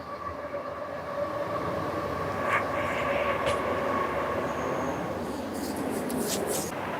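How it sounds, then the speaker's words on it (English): A train rolls past in the background of a disc golf course, a steady broad rumble with faint higher tonal whines lasting the whole stretch at moderate distance. "hole 12, we got a nice train in the backdrop"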